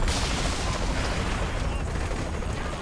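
Dense gunfire and blasts in the video game Saints Row: The Third Remastered, a loud, continuous roar of shots and explosions filling the short moment.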